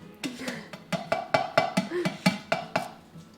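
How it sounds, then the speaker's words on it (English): Quick rhythmic whisking of blueberry scone ingredients in a bowl, a run of about a dozen evenly spaced sharp clicks and scrapes, close and fairly loud, with no talking. "Now you whisk them"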